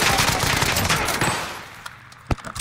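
Rapid gunfire in a shooter video game, a loud sustained burst of automatic shots that fades over about a second and a half, followed by a couple of sharp isolated shots.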